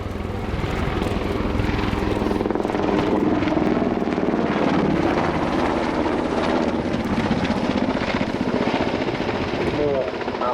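An NH90 military transport helicopter's loud, steady rotor thump and engine roar fill the whole stretch at an air show, with a voice talking over the noise.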